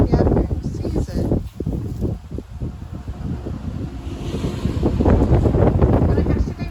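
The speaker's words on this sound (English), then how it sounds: "I'm sorry if the wind is loud too." Wind blowing outdoors over a flock of chickens on a gusty day, buffeting the microphone with loud, rumbling roars that ease for a moment and then build stronger toward the end.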